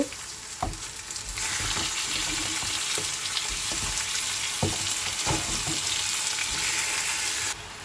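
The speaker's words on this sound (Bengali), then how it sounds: "এই দেখো চিকেনটা একটু পেঁয়াজের সাথে সাথে ভাজা ভাজা হয়ে গেছে" Chicken pieces fry with onions in a pan for chicken kosha in a Paris kitchen, giving a continuous loud sizzle broken by occasional sharp clicks of stirring, with no talking.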